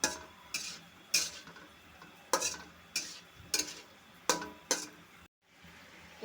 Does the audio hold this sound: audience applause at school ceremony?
no